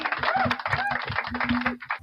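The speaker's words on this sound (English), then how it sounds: "we could hear you typing" Rapid typing on a computer keyboard picked up through an unmuted microphone on a video call, a steady patter of quiet clicks with a low hum and faint voices beneath.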